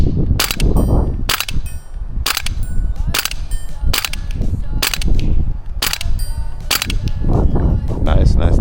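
A toy XM7 gun fires shotgun shells at a target in about eight quick, sharp cracks at a steady rhythm, close and loud over rustling outdoor background noise.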